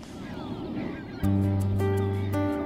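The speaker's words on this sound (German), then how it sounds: "Die Ringelgänse rufen die ganze Zeit" Brent geese call on the Wadden Sea mudflats at Hallig Hooge, loud repeated honking notes that start suddenly and keep overlapping from nearby birds, with a steady wash of wind and surf beneath.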